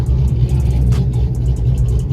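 A Corvette engine with a choppy cam idles with a low, uneven rumble, steady and close throughout.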